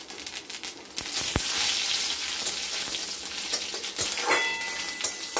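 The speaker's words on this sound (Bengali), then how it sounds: "সরষের তেল গরম হয়ে গেলে দিয়ে দিব আমরা 2টো শুকনো লঙ্কা আর দিয়ে দেবো গোটা জিরে" Dried red chillies and whole cumin seeds sizzle in hot mustard oil, a steady broadband frying hiss that swells after the first second and carries on with small crackles and a faint tonal chirp near the end, no talking.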